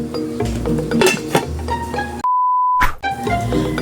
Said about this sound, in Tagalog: Tatakpan lang natin yan mga idol.